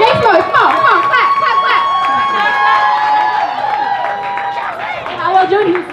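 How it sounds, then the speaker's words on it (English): Poetry slam crowd in Houston cheering, whooping and clapping loudly and continuously, a dense wall of excited voices and applause that swells again near the end. "Make some noise, come on, clap."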